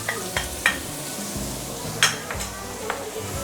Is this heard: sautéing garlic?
yes